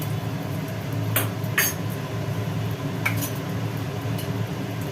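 Fried potatoes being moved into another pot, with a few sharp metallic scrapes and clinks of utensil against the vessel over a steady hum of a ceiling fan.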